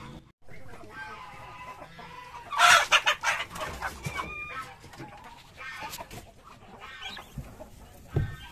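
Turkeys and muscovy ducks mixed together in a pen, with birdlike clucking and calls scattered throughout, a sharper burst of calls near the middle and a talking voice in between.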